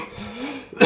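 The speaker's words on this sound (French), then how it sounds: "cette catégorie me fait tousser" A single close, abrupt cough bursts out at the end after a low, murmuring lead-in.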